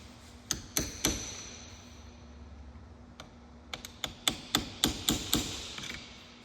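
A cold cut punch is hammered against a stuck, broken CV axle: about a dozen sharp, ringing metallic strikes, three early and then a quicker run of blows, loud and close with no talking.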